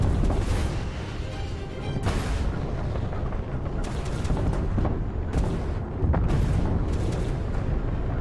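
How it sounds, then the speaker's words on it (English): Dense, continuous rumble of explosions in spaceship combat in Starfield, with repeated heavy booms and bursts layered over a loud, sustained roar, no talk. "Oh, those explosions."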